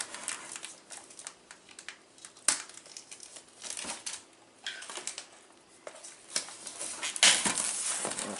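Cardboard and plastic crinkle, rip and tap as a GameStop mystery box is opened and unwrapped, a busy run of close, irregular crackles and bumps with no talk.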